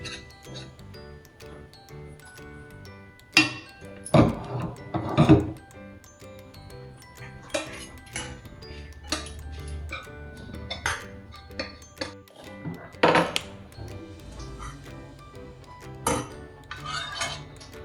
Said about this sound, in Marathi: आता ही खारीकची पूड पण आपण भाजून घेतलेली, आता ती टाकून मिक्स करून घ्यायची।